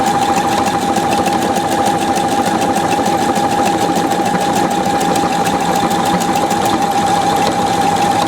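A Pfaff 720 sewing machine stitching a buttonhole, its motor humming loud and close with a fast, even needle chatter that runs without a break throughout.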